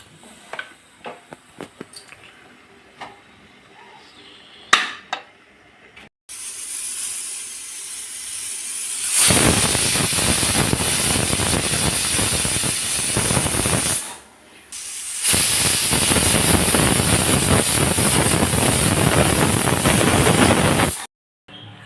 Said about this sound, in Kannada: ಈಗ 2 ವಿಸಿಲ್ ಹೋಗಿ ಕುಕ್ಕರ್ ಪ್ರೆಷರು ಹೋಗಿದೆ